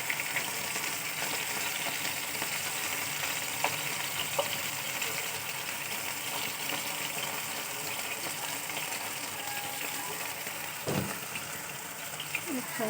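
Chicken pieces fry in hot oil, a steady dense sizzle that runs unbroken from start to finish, close and even, with a brief clatter near the end.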